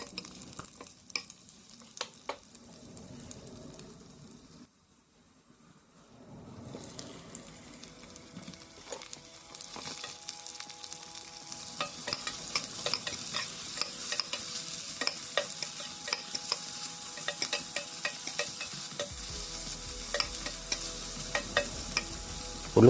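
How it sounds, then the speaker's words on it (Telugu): Onions sizzle in butter with garlic in a kadai, a steady frying hiss punctuated by scraping stirs, quieter at first then louder and busier, close up with no talk. "తర్వాత ఉల్లిపాయ వేసి 2 నిమిషాల పాటు ఫ్రై చేసుకోవాలి"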